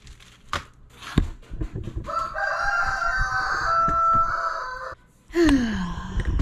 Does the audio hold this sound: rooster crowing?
yes